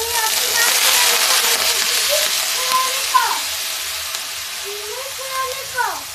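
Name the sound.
grated bottle gourd frying in pan for halwa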